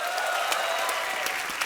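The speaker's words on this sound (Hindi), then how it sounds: "जोरदार तालियां।" A studio audience at a comedy talk show applauds, a dense steady wash of clapping from many hands, fairly close and sustained throughout.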